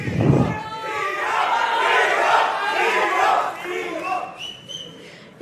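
A large audience roars and shouts together, a dense sustained wall of cheering that swells and then eases off, with scattered whistles near the end.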